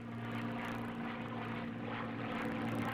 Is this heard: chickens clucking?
no